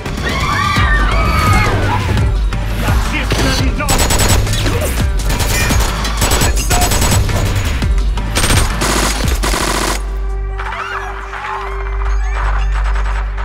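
Rapid automatic gunfire and repeated shots ring out in a loud, dense movie shootout scene, bursts piling over one another for about ten seconds before giving way to a quieter tail with a sustained tone.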